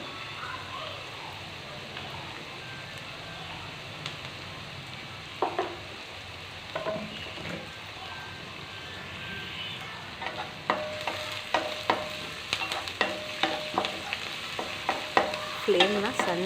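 Onions frying slowly over a low flame for a puffed-rice dish, a soft steady sizzle with stirring that grows busier and louder toward the end, with no speech.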